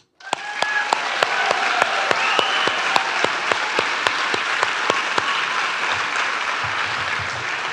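An audience at a fire and EMS completion ceremony breaks into sustained applause that starts abruptly, with a regular series of loud nearby claps over the dense crowd clapping.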